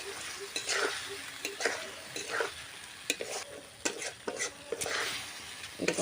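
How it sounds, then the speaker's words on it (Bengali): Fried eggs are sautéed in masala over low heat in a pan, with a soft sizzle under repeated scraping and clinking strokes of a spatula, close and moderately quiet. "তো দেখো 2-3 মিনিট আমি কষিয়ে নিয়েছি।"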